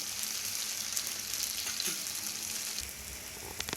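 Ragi rotti sizzles in oil on a hot pan, a soft, even crackle and hiss heard close up with no voices.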